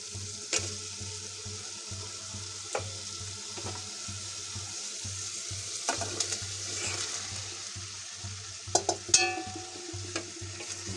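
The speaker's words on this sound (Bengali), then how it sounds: "আমার মশলাগুলো কষানো হয়ে গেছে, এখন আমি মাংসটা দিয়ে দিব" Beef hitting hot, well-fried spices in a pan sets off a steady sizzle with scattered scraping stir clatters, soft and mid-distance, while a low rhythmic hum pulses underneath throughout; no one speaks.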